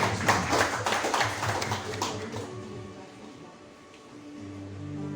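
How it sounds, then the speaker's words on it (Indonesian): A church congregation applauds at a Saturday worship service, a dense wash of clapping that starts loud and fades away over a few seconds, leaving low sustained tones. "Boleh berikan tepuk tangan meriah bagi Tuhan."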